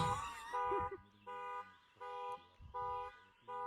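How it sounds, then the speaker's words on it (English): A car alarm blares in repeated on-off bursts of a steady electronic tone, about five pulses in a few seconds, loud and alone. "I hear a car alarm like almost every night."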